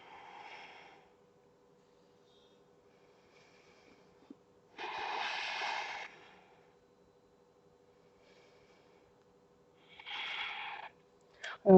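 Deep yoga breaths held in a posture: slow, audible inhales and exhales through the nose, close and breathy, three long breaths separated by quiet pauses over a faint steady hum.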